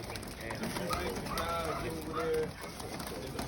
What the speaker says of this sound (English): These are all Bowden birds right here.